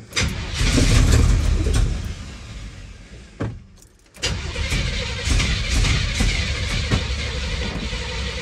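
A Chevrolet square body truck engine cranks close by, catches and fires up, then settles into a loud rumbling idle after a brief dip in level.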